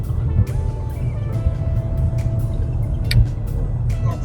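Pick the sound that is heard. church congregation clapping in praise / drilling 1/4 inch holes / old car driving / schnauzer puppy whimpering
old car driving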